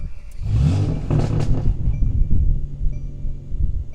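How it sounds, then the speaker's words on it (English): A Mercedes-Benz engine cranks and catches with a sharp burst, then settles into an uneven, close-up running rumble with light clatter. "I'm gonna go ahead and start the car up"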